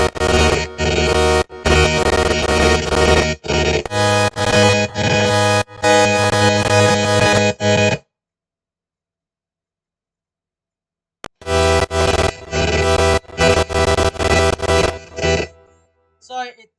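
Two layered synth pads from a music production sustain loud and dense, with rhythmic gated chops, cut off into a few seconds of silence and then return before fading out.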